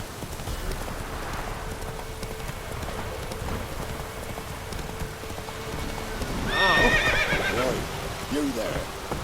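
Roach, a horse in The Witcher 3 video game, trots with muffled hoofbeats over a soft rain-like hiss, then lets out a loud close whinny near the end, with voices speaking around it.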